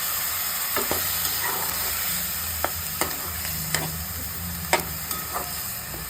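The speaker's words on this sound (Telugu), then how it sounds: "ఇప్పుడు ఉల్లిపాయ ముద్ద వేసుకుంటున్నానండి" Steady sizzle of onion paste frying in oil fills the whole stretch, with occasional sharp clicks and taps of a spoon stirring in the pan.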